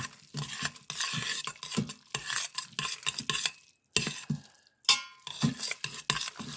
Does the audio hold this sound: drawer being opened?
no